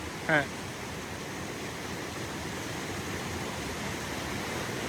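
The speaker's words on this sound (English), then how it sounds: "There's still a lot of water moving through." Steady, broad rushing water of a class IV rapid on the Kennebec River gorge fills the whole stretch, a constant roar like a river running fast, with a brief voice at the start.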